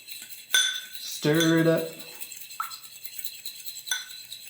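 A utensil stirring egg and milk in a bowl, with clinks and scrapes against the dish and one louder ringing clatter early on, then lighter, spaced taps; close and fairly quiet.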